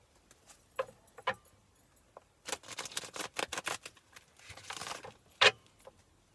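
Quiet papery flicks and riffles of tarot cards being shuffled, in short bursts with a longer rapid flurry in the middle, close and soft with no talking.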